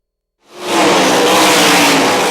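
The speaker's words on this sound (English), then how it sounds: "As the engines roar around the track on the last race of the season" Race car engines roar around a track during the final race of the season, a loud broadband rush that swells in after a brief silence and holds steady and close.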